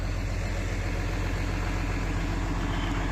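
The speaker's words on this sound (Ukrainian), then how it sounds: "Трактор прогрівається, ми в кабіні прибираємо" A tractor engine idles while warming up before cultivating, a steady, deep, rumbling chug that holds an even level throughout, close and continuous with no talk.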